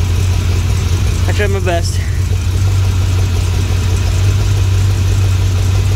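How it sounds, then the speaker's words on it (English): A Chevy Suburban engine idles loudly with an exhaust leak, a constant low rumble and buzz that holds steady throughout while a voice briefly speaks over it. "my exhaust leak over there is driving me nuts"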